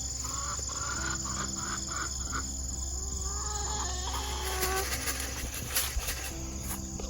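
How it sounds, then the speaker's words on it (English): Chickens cluck in a backyard vegetable garden, their short repeated calls carrying at moderate distance over a constant bed of insect chirring, with no one talking. "Let's give these chickens some scratch to shut them up"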